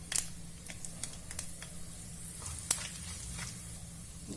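Mustard seeds, fenugreek and cumin sizzling and popping in hot oil in a home kitchen, faint crackle with scattered sharp pops, no talking.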